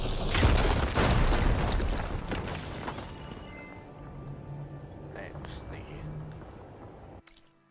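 A fire gleam is blown up in Horizon Forbidden West: a loud, booming blast with crackling debris that rumbles and slowly fades over several seconds, followed by faint ambient sounds.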